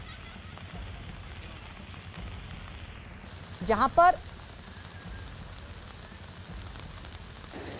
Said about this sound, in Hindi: ऋषिकेश में भी लगातार बारिश हुई है